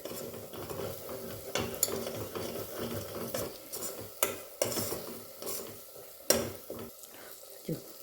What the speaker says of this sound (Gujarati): આપણે આની અંદર બેસન એડ કર્યું છે, એટલે આને સતત હલાયા કરવાનું, નહીંતર નીચે બેસન ચોંટી જશે